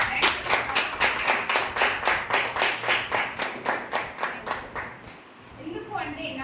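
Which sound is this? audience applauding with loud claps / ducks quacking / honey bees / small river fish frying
audience applauding with loud claps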